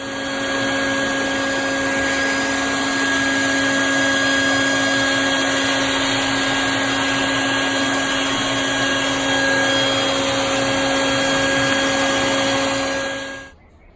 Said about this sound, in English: right now we're just going to vacuum up the sand